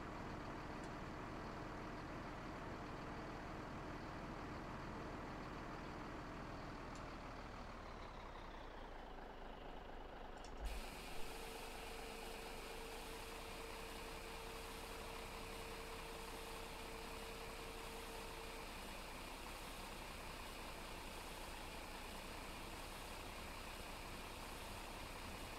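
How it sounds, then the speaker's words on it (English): A truck in Farming Simulator 17 idles as it backs up, its low engine drone steady throughout with a small shift partway in and a thin tone layered over the rumble; no voices. "Get this truck backed in there."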